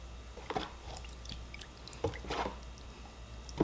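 Wet silk roving is handled in dye water, producing soft squelches and drips in a few gentle bursts, close and quiet.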